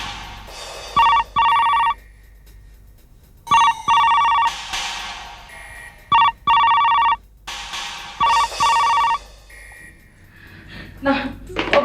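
An unanswered telephone rings in repeated bursts, each double ring separated by short pauses, loud and close in an office setting with no one picking up.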